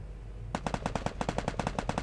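Sustained automatic gunfire in a mobile video game plays through a phone: a rapid, even burst of sharp shots that starts suddenly and continues steadily at moderate loudness, with no talk.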